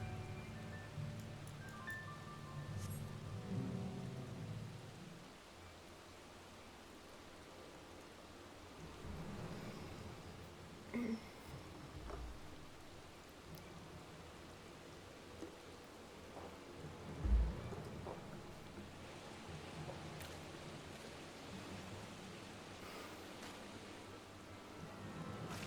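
Rain falls steadily in the video game Final Fantasy XIV: Dawntrail, a faint constant patter with low rolling thunder rumbles and a couple of sharper thumps mid-way, no talking.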